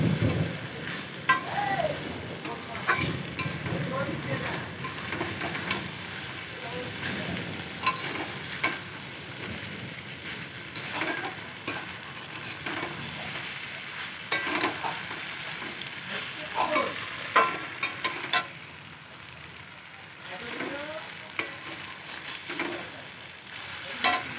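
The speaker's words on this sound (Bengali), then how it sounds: "কষানো হয়ে গেছে আমার আলু মটর এবার এতে আমি জল অ্যাড করব" Potatoes and peas sizzle in a pan as they are stir-fried with spices for spicy ghugni, a steady frying crackle broken by repeated scraping and stirring strokes, close and moderately loud.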